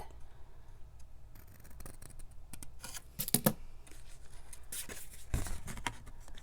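Scissors trimming a paper box in a paper-folding craft, a few short crisp snips and rustles at close range over a quiet background, with no talk.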